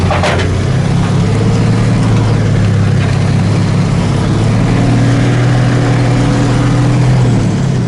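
A 1976 International Scout II diesel pulls away from a cold stop in third gear, its steady low engine drone loud and close throughout with a brief rise at the start.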